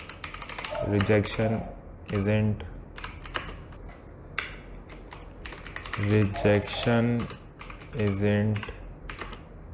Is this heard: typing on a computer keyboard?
yes